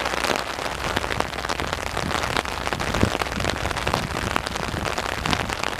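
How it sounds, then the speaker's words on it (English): Steady rain falling and pattering on surfaces beside a railway spur, a dense continuous hiss with scattered louder drops, close by and without any voices. "it started to rain"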